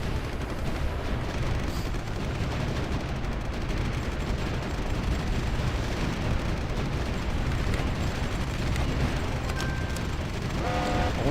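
Dense, continuous crackle and thudding of artillery bombardment explosions in the strategy video game Supreme Ruler 2023, a constant rolling barrage with no pauses and no speech.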